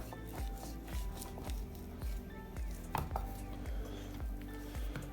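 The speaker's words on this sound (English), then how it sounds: "We are going to cut a steak off here for me." A knife cuts a steak off a prime rib roast on a board, with repeated soft thuds and taps at an uneven pace against a low steady hum, close by.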